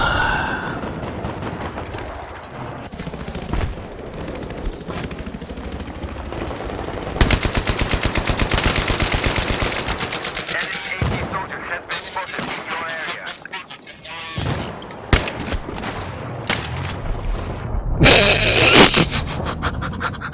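Rapid automatic gunfire and single shots crackle loudly in a Battlefield 3 match, with bursts, impacts and vehicle noise mixed in over a continuous, busy battle soundscape.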